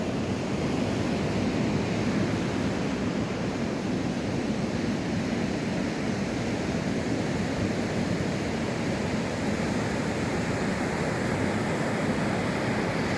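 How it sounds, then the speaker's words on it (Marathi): Ocean waves break on Bhogve beach in the Konkan at seven in the morning during a high, rough sea: a steady, loud, broad surf roar with no pauses and no voices. "मस्तपैकी लाटा आहेत लाटांचा आवाज आहे"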